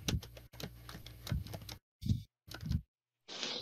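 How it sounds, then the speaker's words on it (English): Bursts of typing on a computer keyboard, quick clicking keystrokes in several short runs separated by silent pauses, close and moderately loud. "I hear Kobu typing"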